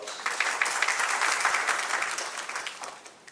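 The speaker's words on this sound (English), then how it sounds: "I request the audience to kindly give a round of applause." An audience at an entrepreneurship awareness programme breaks into a steady round of applause, dense clapping from many hands that holds throughout and fades slightly toward the end.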